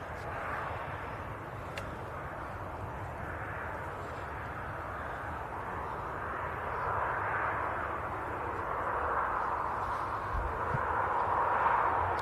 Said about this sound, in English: Logan Air ATR.